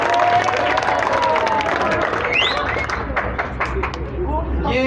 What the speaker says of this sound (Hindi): मैडम लैला तो ब्रदर के लिए तालियां कर दें।